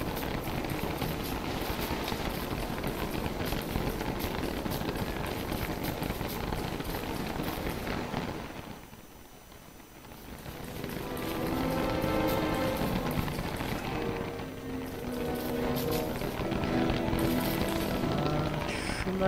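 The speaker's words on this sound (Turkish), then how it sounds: "Yağmur yağmasına rağmen." Steady rain falling in the game Don't Starve: Reign of Giants, a continuous broadband hiss that briefly dips around the middle and then returns, with game music and effects layered over it.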